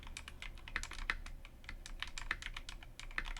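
Quick, irregular clicks of a computer keyboard as text is typed, soft and close, with a few sharper keystrokes standing out and no voices.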